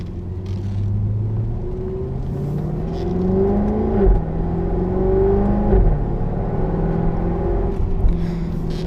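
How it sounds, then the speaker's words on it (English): A Jaguar F-Type R in dynamic mode drones from inside the cabin, its loud exhaust rumbling and rising and falling with gear changes and throttle, steady and close with no talk. "hopefully you guys can hear it, but the exhaust gets very loud"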